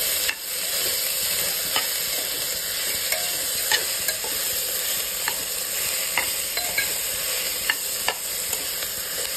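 Onion and vegetables sizzle steadily in a hot pan for mashale bhatt while a spoon stirs and scrapes now and then. The frying is loud and close, with no talking.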